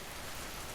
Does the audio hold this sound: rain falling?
yes